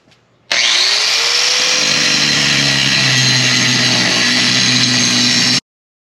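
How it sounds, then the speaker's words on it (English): Power tool grinding down parts during a carburetor install on a Datsun 240Z, a loud steady high-pitched whine that starts abruptly, holds for about five seconds, then cuts off sharply. "Now let's get to grinding."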